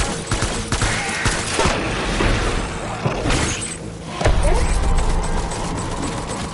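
Gunfire rattles in the video game Death Stranding, with dense bursts and booms layered over a busy, loud mix of game effects and background noise throughout.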